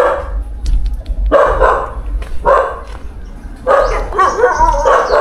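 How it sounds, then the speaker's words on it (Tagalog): A dog at a house beside a Chinese cemetery barks in three loud, close bursts spaced a second or so apart, over a low constant hum. "Oh, may aso."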